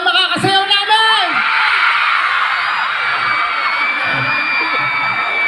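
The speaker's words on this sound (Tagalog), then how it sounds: "Ang pinakamalakas na sigaw yun ang makakasayaw namin!" Loud crowd of screaming, whooping fans competing to be the loudest for a chance to dance with the performers, a dense sustained roar with shrill yells near the start.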